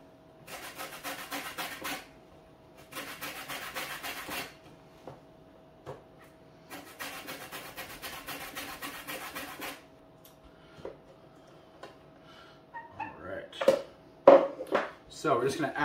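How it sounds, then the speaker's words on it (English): Grapefruit zest being grated on a hand grater, heard as four rasping bursts of scraping strokes separated by quiet pauses, ending in a few clinks and light kitchen handling noises. "So we've got our grater here."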